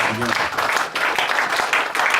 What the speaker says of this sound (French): Oh, donnons une acclamation.